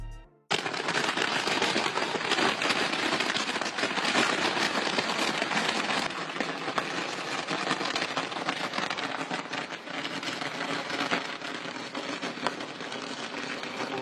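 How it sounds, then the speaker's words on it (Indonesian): Dense fireworks crackle and pop continuously in a sustained barrage forming a 500-metre sky ladder over Guangzhou, loud and close, with no pauses after a brief quiet start. "tampak bagaikan tangga menuju ke atas langit menggunakan kembang api"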